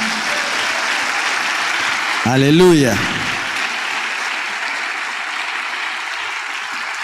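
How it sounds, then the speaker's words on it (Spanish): Church congregation applauding during a Spanish-language service: dense, continuous clapping fills the space, with a loud voice calling out briefly over it partway through. "Dele fuerte el aplauso a Jesús."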